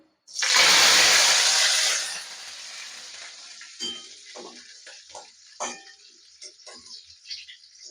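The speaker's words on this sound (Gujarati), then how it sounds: "તો આ આપણે મીઠો લીમડો તળી લેશું" Curry leaves dropped into hot oil for a nylon poha chevdo, giving a loud burst of sizzling that lasts about two seconds, then dies down to a quieter crackle with small scattered pops and spoon clinks.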